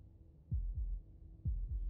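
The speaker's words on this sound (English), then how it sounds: "That was the sound of a heartbeat," Heartbeat in the video game Slay the Princess: two pairs of deep, close thumping beats, lub-dub, separated by a pause, loud over a low steady hum.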